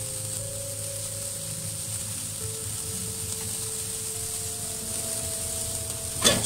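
Burger patties sizzle directly above charcoal on a grill, a soft steady hiss of fat crackling over a low drone, with a brief sharper burst near the end and no voices.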